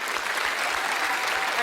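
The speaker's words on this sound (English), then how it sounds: "Please give them a round of applause." Sustained, dense audience applause fills a large hall at the 51st TV Week Logie Awards ceremony in 2009, loud and steady throughout without a break.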